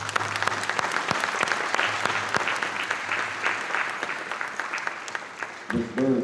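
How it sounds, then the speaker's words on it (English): Audience applause at a school Black History Month assembly for the participants, a steady crowd clatter with an amplified voice briefly breaking in near the end. "Let's give all our participants a big round of applause."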